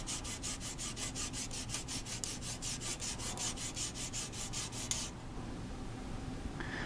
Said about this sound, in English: I need to sand off the paint that is on the can